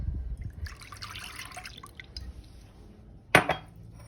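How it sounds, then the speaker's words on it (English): Milk pours into a mixing bowl in a soft steady stream for about a second, then a quiet pause followed by a sharp clink against the bowl. "Let's add our milk"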